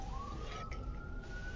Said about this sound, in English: hear the ambulance. They're coming for us.